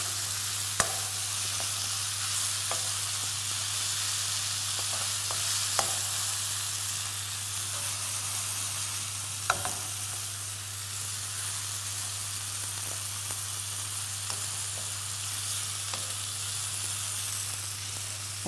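Garlic and onion sizzle in a pan with turmeric, a steady close frying hiss broken by occasional sharp clicks from a utensil, over a constant low hum.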